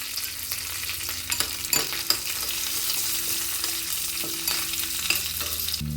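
Curry leaves, dried red chillies and black gram tempered in hot oil for an Andhra cucumber chutney, a close continuous crackling sizzle with occasional spoon taps and stirring scrapes.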